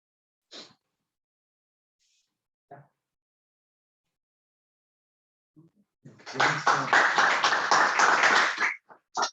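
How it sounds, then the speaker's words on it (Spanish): A few faint isolated taps, then a burst of loud, sustained applause from an academic talk audience lasting a few seconds before cutting off. "Aplausos."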